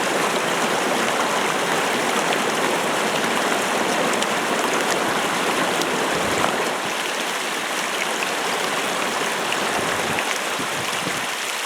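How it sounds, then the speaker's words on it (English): Strong wind in the North Absaroka wilderness in April with light snow, a steady loud broadband rush that persists without a break, no voices. "The wind's howling, it's snowing a little, but it's mostly the wind"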